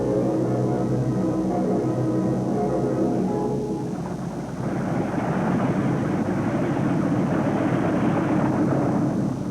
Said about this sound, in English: The mission completed, the B24s now taxi back to the waiting ground crew at their dispersals.